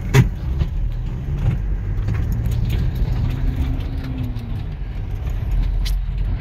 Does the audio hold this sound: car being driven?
yes